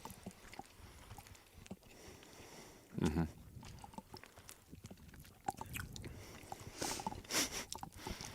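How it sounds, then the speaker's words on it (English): Someone chews food close to the microphone while a podcast is being recorded, with soft wet squishing and biting and one louder crunchy bite partway through. "let me just finish chewing"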